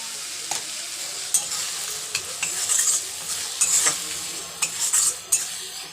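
Masala with salt is stirred and fried in a pan for chicken biryani, giving a steady close sizzle broken by repeated scraping stirs of a spoon.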